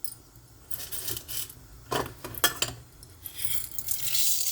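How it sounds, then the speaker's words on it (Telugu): Mustard seeds, cumin and a dried red chili tempering in a little hot oil for a Telugu raw banana curry, bursts of crackling, popping sizzle that flare and settle, fairly quiet and close, with no talking. "ఆయిల్ కొంచెం వేడెక్కాక తాలింపు గింజలు వేసుకోవాలి."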